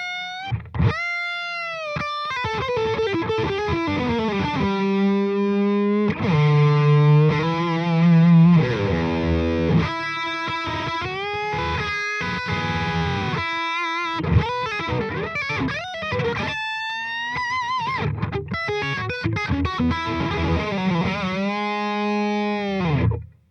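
Electric guitar lead played through stacked overdrives, a Kinky Boost with its boost on feeding a Compulsive drive, with a Line 6 HX Effects and BluGuitar Amp 1 rig: a saturated, sustaining melodic line with bends and quick runs, loud and unaccompanied.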